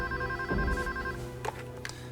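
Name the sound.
telephone ringing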